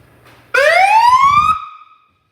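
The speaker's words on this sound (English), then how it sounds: "And we do have a siren too." A loud, close fire truck siren wail rising in pitch for about a second, then cutting off and fading quickly.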